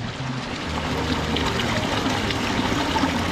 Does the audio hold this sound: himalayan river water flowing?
yes